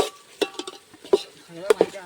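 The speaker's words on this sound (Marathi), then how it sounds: "रोशन तिकडे ढवळतोय" Eggs being stirred in a pan, sharp metallic scrapes and clinks of a utensil against the pan in an uneven rhythm, close and clear with no talk.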